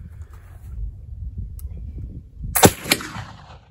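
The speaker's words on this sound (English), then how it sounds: "this is shot number one with 3F GOEX" Black powder gunshot fired with 3F GOEX powder: one sharp, loud crack followed by a second report and a short decaying echo, over a low outdoor rumble.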